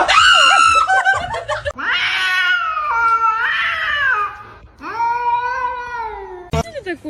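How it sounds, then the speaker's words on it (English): Cat yowling with its head stuck in a chair, loud drawn-out wailing cries in several long bursts separated by brief pauses, with a person laughing and talking in the background. "The cat got his fucking head stuck in the chair."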